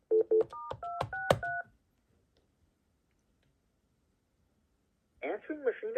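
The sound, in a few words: telephone dialing tones on Panasonic KX-TG5583 phone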